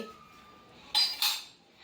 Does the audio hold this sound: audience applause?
no